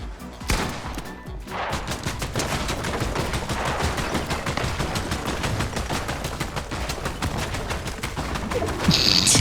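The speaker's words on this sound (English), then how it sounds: "One of these bullets are gonna get him, bro." Rapid Fortnite gunfire rattles in dense, steady bursts, loud and close, with a rising burst near the end.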